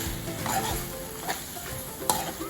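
Pork sizzles steadily in a hot pan while a utensil stirs it in a few scraping sweeps, close and continuous, with no voices.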